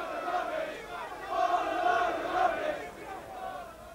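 Unhappy crowd at a 1995 England cricket Test jeering, a broad swelling roar of many voices that rises and falls in the middle distance.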